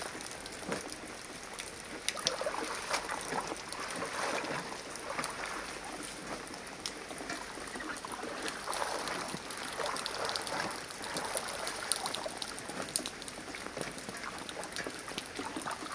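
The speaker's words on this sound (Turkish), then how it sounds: "Felaket yağmur da yağıyor ha. Bayağı yağmur yağıyor." Heavy rain falls steadily in a garden, a constant hiss of drops pattering on surfaces, fairly quiet and even with no talk.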